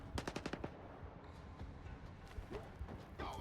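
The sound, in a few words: gunfire in the video game S.T.A.L.K.E.R. 2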